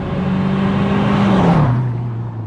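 A hot hatch car engine revving hard at high pitch in third gear near the top of the revs, holding steady before dropping as the gear changes, loud and close.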